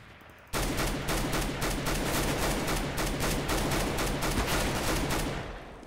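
Sustained rapid gunfire from a weapon in Counter-Strike: Global Offensive, a loud, dense stream of shots starting abruptly after a short quiet lead-in and continuing almost without pause to the end.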